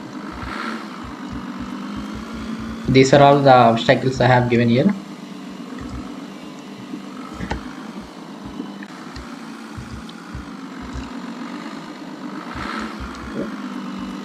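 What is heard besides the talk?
car engine in a Unity 3D racing video game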